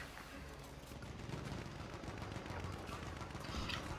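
Gunfire from a sniper in the Battlefield 1 video game, a series of muffled, rumbling shots and distant battle noise at low volume.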